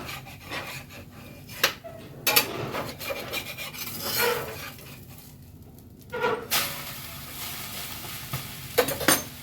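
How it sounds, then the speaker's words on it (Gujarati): Batter for a pudla, a savory gram-flour pancake, is cooked on a lightly oiled griddle, giving a steady raspy sizzle with scraping and rubbing strokes that rise in a few louder bursts, close and continuous with no talking. "હવે જે આ પુડલો છે એને આ તવીમાં નાખીએ"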